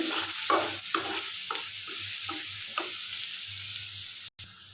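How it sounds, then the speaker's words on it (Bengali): Onion frying in mustard oil in a pan, a steady close sizzle broken by a series of rhythmic scraping stirs, with no talking. "আর একটু সরিষার তেল দিয়ে পেঁয়াজটা দিয়ে দিয়েছি"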